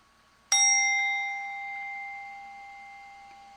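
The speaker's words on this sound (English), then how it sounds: "And as I ring the bell," A single meditation bell is struck once to close the session, a clear bright ring with several sustained tones that decays slowly over about three seconds in a quiet room.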